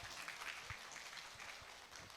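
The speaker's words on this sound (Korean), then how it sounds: "다시 한번 박수 부탁드립니다" Brief, faint applause from parents gathered at a high school admissions briefing, a soft wash of clapping lasting about two seconds.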